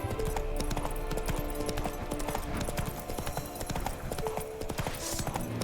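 Roach, Geralt's horse in The Witcher 3, galloping with a fast, steady clip-clop of hooves close up, set against a dense bed of game music and ambience.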